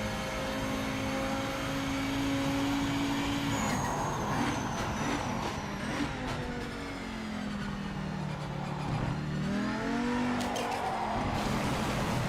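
Race car cockpit sounds in the racing video game Project Motor Racing: a steady, loud engine drone that rises and falls through gear changes, heard from inside the car with reverb and no talking.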